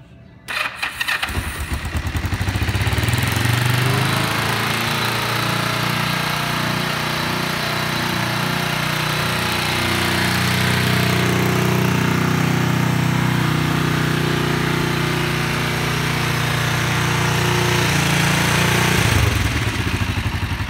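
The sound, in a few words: Kawasaki Vulcan 500 motorcycle engine starting and running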